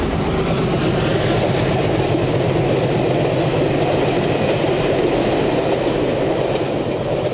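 An Erie Lackawanna RS3 diesel locomotive hauls a commuter train past, with a loud, steady roar and rhythmic wheel clatter that runs without a break from start to end.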